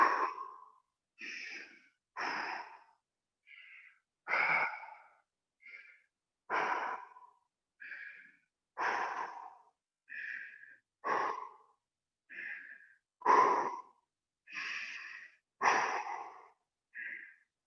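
Someone breathes heavily after holding a plank exercise, about fifteen separate breaths and puffs at an even pace, close to the microphone with silence between them.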